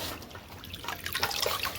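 Freshly cut potato slices dropped into water for washing, giving a soft, close splashing and trickling that grows slightly busier toward the end, with no talk.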